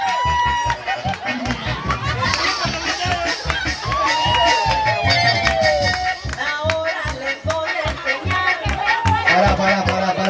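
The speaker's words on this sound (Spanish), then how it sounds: "Grito y aplauso para ella." Festival crowd at a patronal fiesta in Uluazapa cheering, shouting and clapping in a loud, dense wash, with children's shouts and chatter mixed throughout, continuous and close.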